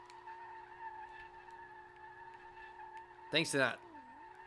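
A Nissan 240SX drifting in the racing game SLRR gives a short, sharp tire skid over a steady engine drone, with a voice talking faintly throughout.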